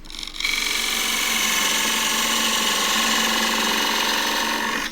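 A gouge on a wood lathe hollows out an endgrain cup, a steady close whirring cut with a constant tone that holds for several seconds after a brief start, with no talking.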